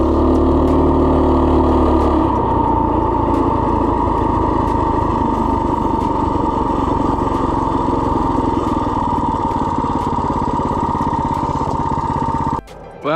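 A mini bike engine drones steadily on a road near Warner Valley, Utah, a loud, close, buzzing hum held at even speed, dropping in pitch after two seconds and cutting off abruptly near the end.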